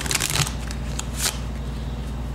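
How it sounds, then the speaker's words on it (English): A deck of playing cards is riffle-shuffled up close during a magic trick, a rapid fluttering burst followed by further quick riffles, with no talk over it. "You can give the deck as many shuffles as you want."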